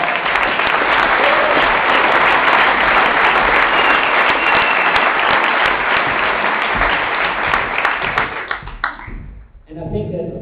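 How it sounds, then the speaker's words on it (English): An audience claps at a business event on stage, dense sustained applause that carries on loud and even before tapering off near the end. "please come onto the stage and give them an applause"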